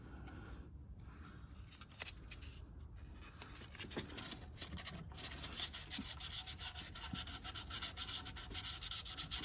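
Steady sanding with 600-grit sandpaper on a BMW E30 thermostat sealing surface, rapid back-and-forth rubbing strokes, building slightly in loudness, close up and with no talking.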